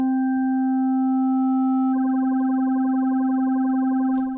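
Sonicware Liven Evoke synthesizer wavetable oscillator with sync modulation: a steady pure tone that turns into a rapidly pulsing, warbling modulated sound partway through, alone with no talk.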